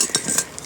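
A large Zebra stainless steel cooking pot being handled, giving a few quick, close metallic clinks and clanks in rapid succession.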